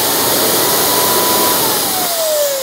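A Wagner paint sprayer runs steadily after being switched on, giving a loud, constant motorized whine and hiss close to the microphone, with a faint tone that slowly drifts lower near the end.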